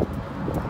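Wind blowing across a bridge over the Baltic Sea in Stockholm, a steady broadband rush with gusty buffeting on the microphone, brief and continuous with no voices.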